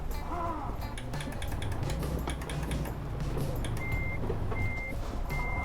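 A truck in Euro Truck Simulator 2 reverses to hook up a trailer, with repeated evenly spaced reversing beeps over a low rumbling diesel engine and clicking, and a voice talking over it.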